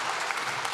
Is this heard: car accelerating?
no